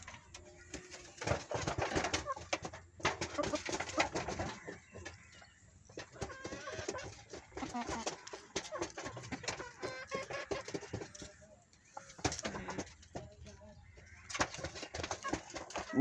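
Native hens cluck and call on a small backyard chicken farm while foraging for ground maize, with repeated bursts of clucking at close range, some overlapping and some alone, and brief quiet gaps between.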